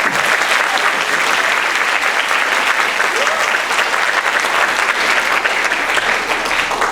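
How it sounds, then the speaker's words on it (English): An audience at an elementary school spring concert applauds a school choir, a loud, sustained, even roar of clapping that fills the whole stretch without a break. "So let's give them another round of applause."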